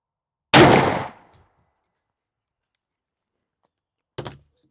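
A shotgun fires a 3-inch Nitro No. 9 TSS turkey load of 2 5/16 ounces through a .640 Remington Federal Heavyweight TSS choke: one loud, close blast that decays quickly, followed seconds later by a short, faint thud.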